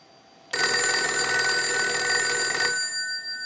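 One long burst of harsh, rapid bell clanging from a North Electric Galion TP-6-A military field telephone, loud and close, lasting about two seconds before cutting off.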